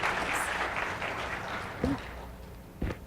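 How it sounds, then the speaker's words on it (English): Audience applause welcoming speakers at a museum technology talk, a dense wash of clapping from a crowd, steady and moderately loud, with brief voice sounds rising briefly near the end. "Welcome the ladies with a round of applause."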